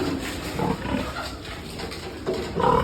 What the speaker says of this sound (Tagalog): Standing hip. Si Mama Pig.